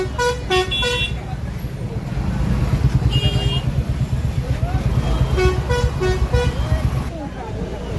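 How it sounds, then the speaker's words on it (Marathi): Repeated car and motorcycle horns toot in short bursts over a steady rumble of engines and crowd chatter at a busy weekly village market in Shirgaon, Devgad, Sindhudurg; people talk throughout. "बाजारात गाड्यांची आणि माणसांची सुद्धा गर्दी भरपूर"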